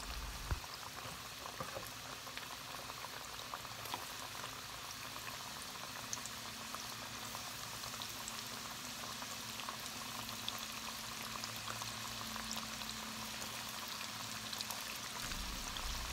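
Salmon pieces deep frying in hot oil give a steady, faint hiss and fine crackle that holds evenly throughout, with no talking.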